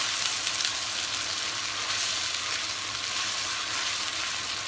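Spice masala for bagara baingan fries in reused eggplant-frying oil over high heat, a steady dense sizzle holding at even loudness throughout with no voices.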